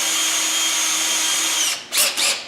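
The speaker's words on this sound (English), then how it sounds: "use a drill bit and drill into the wood" A power drill bores a pilot hole into a piece of wood, with a steady high motor whine that stops, then two short bursts follow as the trigger is tapped. Close and loud, with no talking.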